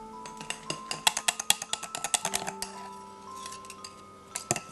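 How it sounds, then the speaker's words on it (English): Whisking powdered sugar, black cocoa, heavy cream and softened cream cheese in a bowl: a rapid run of close, bright clinking ticks from the whisk against the bowl, thinning out toward the end with a few last taps. "You're gonna whisk it together with a cup of heavy cream and 4 ounces of softened cream cheese."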